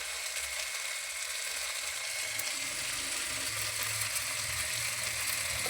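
Green chillies and turmeric powder sizzle in hot oil with a steady, dense hiss and fine crackle that stays even and close throughout, with no talk.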